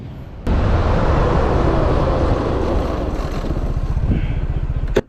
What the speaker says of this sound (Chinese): 这台是豪爵 UHR 的刹车测试。